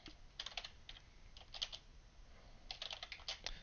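Keys clatter on a computer keyboard in bursts of quick typing with short pauses, close and fairly quiet, no voices.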